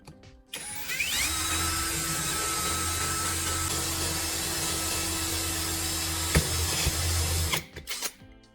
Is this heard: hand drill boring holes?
yes